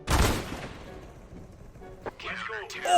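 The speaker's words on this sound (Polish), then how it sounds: "Potrójny headshot ze scouta na raz." A single sharp, loud scout sniper-rifle shot in the video game CS:GO cracks at the very start and decays with a ringing tail, followed by quieter game sounds.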